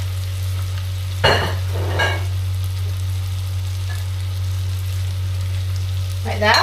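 Lamb's liver and onion fry in a crowded pan with a steady sizzle beneath a constant low hum. A few louder spatters and scrapes break through, and someone speaks briefly near the end.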